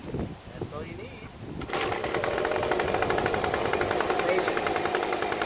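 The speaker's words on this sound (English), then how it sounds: "I'm going to use my Echo leaf blower." An Echo leaf blower engine starts up and runs steadily at close range, a loud continuous buzzing roar that holds without pause after a brief stretch of quieter sound.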